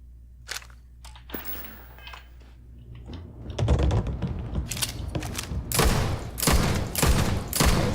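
A recoil-heavy firearm in Starfield fires several loud, spaced shots, growing denser and louder in the second half with sharp bursts standing out against a quieter opening.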